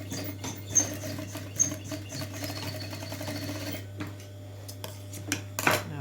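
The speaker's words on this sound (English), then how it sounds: "And sew across that marking." A sewing machine stitching across the corner seam of a fabric handbag, a fast steady mechanical whir with rhythmic needle clatter, pausing near the end before a short final burst.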